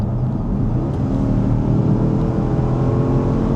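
A Porsche Cayenne Turbo 958.1 accelerating hard on a motorway to overtake, a loud, sustained engine drone heard from inside the cabin, steady and unbroken for several seconds with no one talking.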